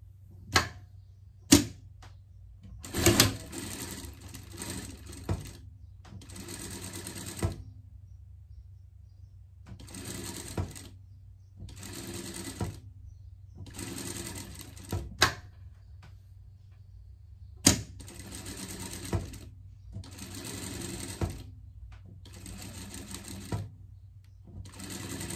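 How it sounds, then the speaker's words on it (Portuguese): A sewing machine stitches a seam in repeated short bursts of rapid mechanical chatter separated by pauses, close and moderately quiet, with a low steady hum underneath. "Passar uma costura aqui."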